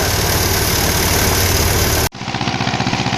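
A tractor engine idles steadily with a loud, even rumble that suddenly shifts to a lower, throbbing chug.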